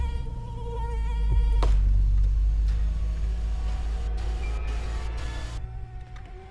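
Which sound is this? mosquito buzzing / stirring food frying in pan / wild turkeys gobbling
mosquito buzzing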